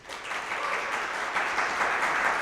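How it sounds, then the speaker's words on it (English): Live podcast audience in Atlanta breaks into applause, a steady patter of clapping that swells quickly and holds. "Applaud."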